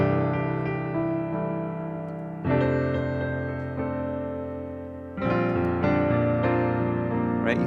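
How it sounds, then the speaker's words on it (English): Rootless major 6/9 chords on piano, three sustained voicings struck one after another and left to ring, played alone at moderate volume. "Here's the sound of major 6/9 chords."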